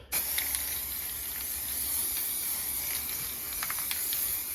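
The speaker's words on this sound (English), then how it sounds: "So I'm going to give it a second coat of primer filler and then let it dry overnight." Spray can of primer filler coating a plastic hubcap, a steady close hiss running nearly the whole time with slight pulses near the end.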